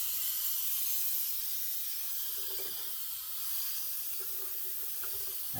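Unthinned Dragon Styrene paint is sprayed straight onto model railway tracks, making a continuous airy hiss that holds steady, with faint low bumps beneath it.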